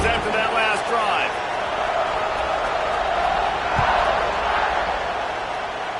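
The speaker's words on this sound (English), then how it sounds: "this crowd is feeling themselves after that last drive." A big football stadium crowd roars in a steady, dense wash of cheering during a kickoff, with faint whoops rising through it. A commentator's voice runs over the noise.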